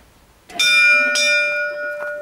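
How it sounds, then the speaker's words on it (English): A bell rung at the gate of Worb Castle in Switzerland sounds from silence, with two clear metallic strikes close together. Each leaves a bright, ringing tone that decays slowly and carries on to the end. "Let's ring the bell."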